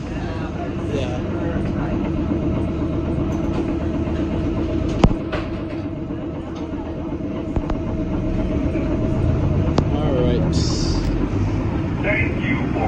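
A New Orleans St. Charles Line streetcar rolls steadily along its rails, with a continuous rumble and occasional sharp clicks and squeals, heard from inside the car.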